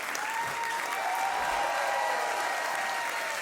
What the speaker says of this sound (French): Notre ami Sax, on applaudit très très fort également.